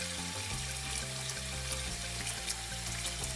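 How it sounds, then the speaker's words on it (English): Running water splashes steadily into a sink as fursuit pieces are rinsed of detergent and sanitizer, a continuous close wash with a low, busy hum beneath it. "you're gonna put the pieces back in because you wanna rinse off any detergent or sanitizer that's on there"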